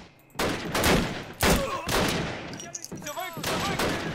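Gunfire rings out in the World War II shooter Call of Duty: United Offensive, loud sharp shots and bursts repeating over about four seconds, with layered battle noise between them.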